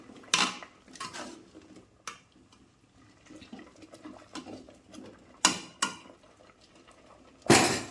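A ladle handle stirring spinach in a pot on a kitchen stove, with scattered sharp metallic clinks and scrapes against the pot, several louder knocks between quieter rustling and shuffling.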